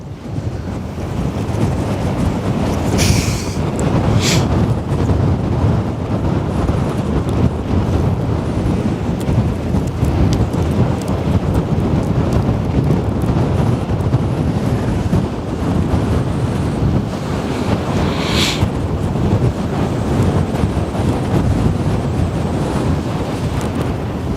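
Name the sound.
wind blowing on outdoor microphone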